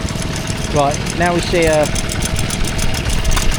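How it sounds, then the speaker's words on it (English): A three-quarter horsepower antique petrol engine drives an 1890 coffee mill at a country show near Ringmer, Sussex, idling with a steady mechanical knock while someone talks over it. "petrol engine powering a coffee mill from 1890"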